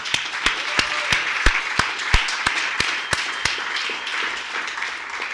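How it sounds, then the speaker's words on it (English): Sparse applause from a small group at a company all-hands meeting, with distinct individual claps ringing out at an irregular rhythm over a soft bed of quieter clapping, fairly close and steady throughout. "I want to give them a round of applause"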